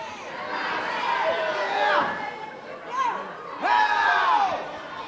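A professional wrestling crowd jeers and shouts at a cocky wrestler, rising in swells of mixed voices with loud bursts.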